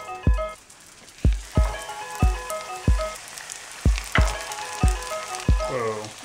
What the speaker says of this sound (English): we're gonna go ahead and fry these in some veggie oil that we got here heating up